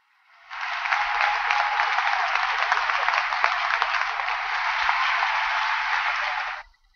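A church congregation applauds as a pastor is welcomed, a dense, even wash of clapping that fades in, holds steady for about six seconds, then cuts off abruptly, with a faint low rumble beneath.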